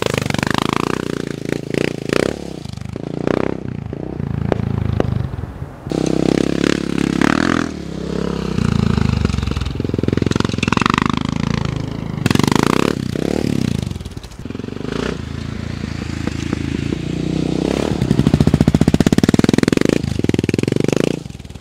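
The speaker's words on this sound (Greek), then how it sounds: "Εγώ έχω βάλει μία απομίμηση Yoshimura. Πάρα πολύ φθηνή εξάτμιση." A Honda Dominator NX 650 single-cylinder motorcycle fitted with a cheap Yoshimura replica exhaust runs loud and close, its engine revving up and down in rough, clattering bursts throughout.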